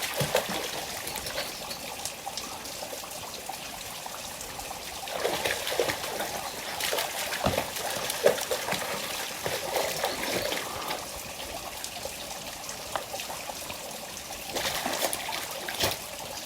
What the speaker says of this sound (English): We have reached the bottom of the valley and we can find water